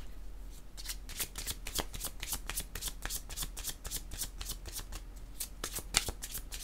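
Tarot cards shuffled for a reading, a steady run of crisp riffling flicks about four or five per second, close and clear, with no talking.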